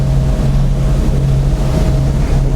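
An HKKF ferry from Central to Peng Chau rumbles with a loud, steady engine drone, with waves and wind rushing past while it rides at speed.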